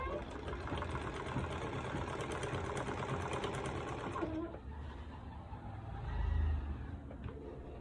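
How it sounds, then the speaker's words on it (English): A sewing machine stitches turban lining onto a cap, a rapid, even mechanical patter close by for about four seconds, then stops, leaving a faint low rumble. "I'm trying to sew the lining together with the sacrificial material, the cap."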